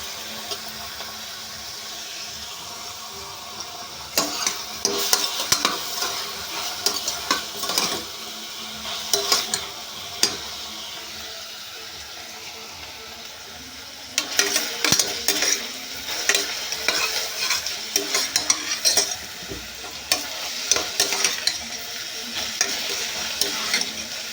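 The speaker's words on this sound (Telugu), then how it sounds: "ఉల్లిపాయలు అయితే ఫ్రై అవుతాయి కదండి" Onions frying in a pan for a flat bean dish, under a soft steady sizzle broken by loud bursts of spoon stirring and metal scraping against the pan, with quieter stretches between.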